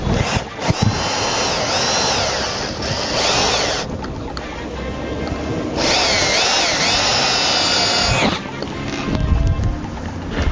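A power drill bores holes for an M8 bolt in sculpture work made from old tyres, whining loudly in long bursts with pitch sweeps as it bites, close and with no talk.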